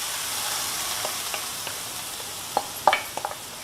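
Steady oil sizzle as grated mango ginger fries, with a few sharper crackles and pops toward the end, close and fairly loud, no talking.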